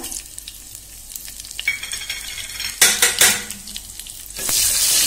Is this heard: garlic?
yes